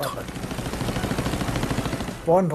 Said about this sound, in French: Il se dirigeait à nouveau vers moi en faisant cracher ses redoutables canons de 20 mm